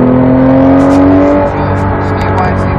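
Porsche 911 GT3 engine accelerating hard on a race track, a loud steady rising drone that climbs in pitch before easing slightly, continuous from start to finish.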